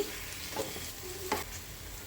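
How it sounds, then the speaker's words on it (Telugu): Omelette for egg curry being scrambled in a hot frying pan, with a steady sizzle and a couple of scraping stirs, heard up close without any talk. "ఈ టైంలో దీన్ని ఇలాగా స్క్రాంబుల్ చేసేస్తే అంతే అండి"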